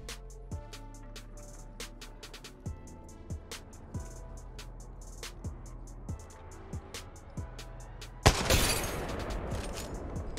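Kraber sniper rifle fire in Apex Legends: a run of sharp, evenly spaced shots, each trailed by a low, fading ring, and then one much louder blast near the end.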